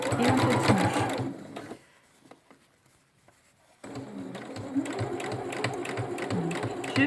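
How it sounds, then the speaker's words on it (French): Sewing machine running in fast bursts as it stitches a ribbon around a circle of swimsuit fabric, loud and close, stopping for a couple of seconds of near quiet before resuming. "je pique tout autour jusqu'à arriver au point de départ"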